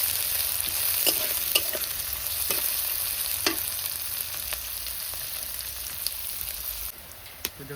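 Onions frying in mustard oil, a continuous even sizzle close by with scattered pops and stirring clicks, dropping slightly quieter near the end.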